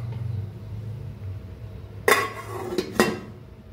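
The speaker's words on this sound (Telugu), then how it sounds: "లిడ్ అయితే క్లోజ్ చేసుకుందామండి." A metal lid is set onto a cooking pot of boiling water for Tamil Nadu style kushka rice, giving one sharp clank followed by two lighter clinks over a low simmering hum.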